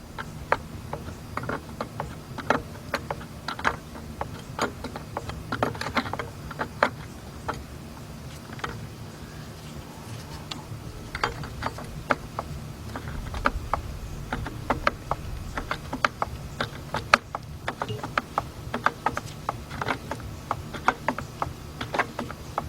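A 15/16 wrench ratchets a bolt tight on a Chrysler engine during timing belt and radiator work, giving a steady stream of close, crisp clicks at an uneven pace over a low room hum.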